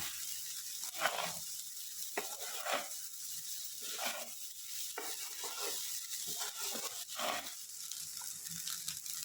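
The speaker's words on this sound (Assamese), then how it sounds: "এইখিনি ভালদৰে লৰাই দিলে, মিক্স কৰি দিব অলপ সময়।" Vegetable fried rice is stirred and tossed in a hot pan: a quiet, steady sizzle broken by repeated scraping strokes of the spatula at an irregular rhythm, with no one speaking.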